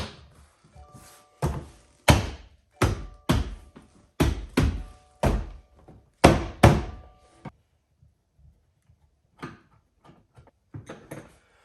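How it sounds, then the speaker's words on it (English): A run of loud, sharp thunks comes in quick succession as a car door panel on a 2016 Subaru WRX is pushed and snapped into place, followed by softer scattered taps. "So now we can put our door panel back on."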